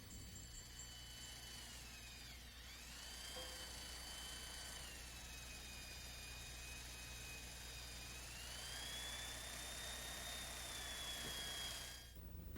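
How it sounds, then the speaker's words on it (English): An electric drill with a sharp 1/4 inch bit bores landing gear bushings on a RotorWay 162F helicopter kit, lubricated with cutting oil; a steady, faint motor whine runs throughout, its pitch dipping and rising as the bit loads and frees. "Drill the bushings with a sharp 1/4 inch drill bit."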